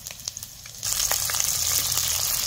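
Curry leaves and finely chopped green chillies hit hot oil with cumin and ginger paste for a potato bhaji, and a quiet pan suddenly bursts into a loud, crackling sizzle that keeps spitting steadily.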